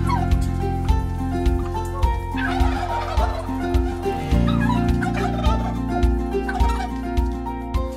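Turkeys on a farm raising hundreds of birds gobble repeatedly in overlapping bursts, loud and close, over a steady droning background.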